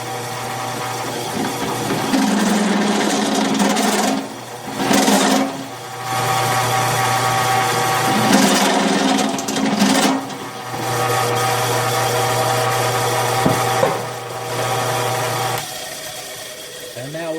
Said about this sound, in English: We'll run us, and we'll deburr that right there and see if it'll fit.